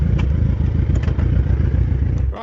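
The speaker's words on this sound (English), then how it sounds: "Just park the bike and I'll film the beach for you." A motorbike idles up close on a road near a beach in Greece, a loud steady low engine rumble that cuts off abruptly at the end as it is parked.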